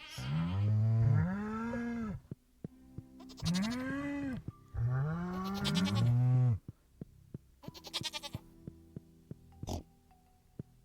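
Cattle mooing and sheep or goats bleating in a barn in the farming game Stardew Valley, several drawn-out calls in a row, loud and close, with quiet gaps and soft clicks between them.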